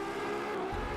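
A Ferrari LaFerrari or McLaren P1 supercar in Driveclub revs hard through a 0 to 60 mph launch, its engine droning loud and steady, with a deeper surge of low rumble near the end.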